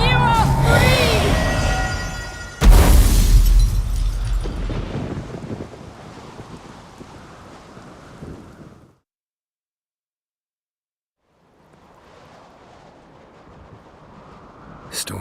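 Storm wind and crashing waves in The Witcher 3 video game, a loud roaring rush with heavy low booms early on that eases, cuts to silence, then returns as a fainter windy wash, with voices heard.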